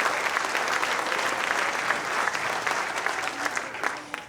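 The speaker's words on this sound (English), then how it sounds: "One more round of applause for our 22 nominees and 5 Crystal Apple Award recipients" Sustained applause from a ceremony crowd honouring 22 nominees and 5 Crystal Apple Award recipients, a thick steady roar of clapping that stays strong and even before easing slightly at the close.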